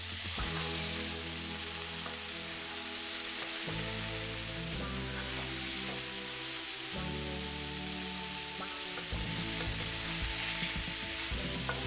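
Thin, fatty burger patties sizzle hard in a hot pan, a dense, steady crackle with a tonal hum running beneath it, loud and close with no talking.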